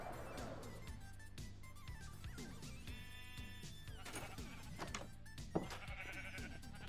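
Sheep on a small Minecraft farm bleat repeatedly in short nasal cries, heard over a continuous bed of game music and ambient sound.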